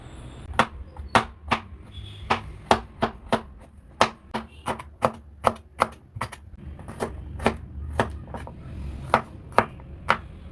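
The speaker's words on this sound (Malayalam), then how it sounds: "കുറച്ച് തേങ്ങ ഇഞ്ചി കുറച്ച് ഉള്ളി ചെറിയ ഉള്ളി ഇത്രയും എടുത്ത് നമുക്ക് ചെറുതായിട്ട് കട്ട് ചെയ്തെടുക്കാം" Rapid, steady knife chops through coconut, ginger and shallots on a cutting board, about twenty sharp close strikes in an even rhythm.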